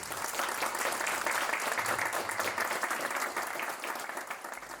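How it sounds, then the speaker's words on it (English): Audience applause welcoming a guest speaker onstage at a talk about the Ukraine war: dense, sustained clapping from a crowd, steady and loud throughout, easing slightly toward the end. "I want you to give Mr. Baab a big, warm applaud and welcome him"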